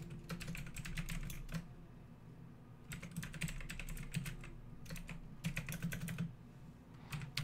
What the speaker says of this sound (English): finish typing out all the stuff for YouTube there for that.